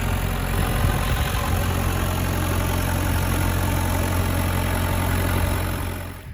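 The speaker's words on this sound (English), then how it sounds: "35 horsepower diesel, turbocharged with a tractor stack." A turbocharged 35hp Perkins diesel engine on an Outlaw mower with a tractor stack idles close by, a loud, steady rumbling drone that holds throughout and then cuts off abruptly at the end.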